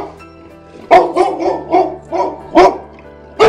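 A dog barks at the door of a home during bathtub drain plumbing work, giving a series of about six loud, close barks in a quick uneven rhythm.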